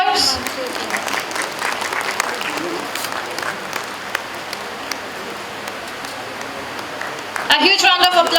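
Audience applause at an academic book-launch celebration, a steady wash of many hands clapping for about seven seconds before a voice starts speaking near the end.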